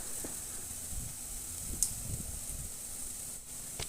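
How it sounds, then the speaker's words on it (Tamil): Onions sautéing with salt in a pan give a steady, soft sizzle and hiss throughout, with occasional faint stirring taps. "உப்பு சேர்த்துட்டு இதை நல்லா வதக்கிக்கோங்க."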